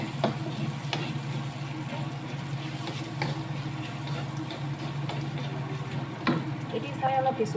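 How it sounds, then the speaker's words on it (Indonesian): Shallots frying in leftover cooking oil, a steady close sizzle with light crackle and occasional stirring clatter throughout, over faint background noise. "itu minyak yang masih ada kita buat goreng bawang merah ya"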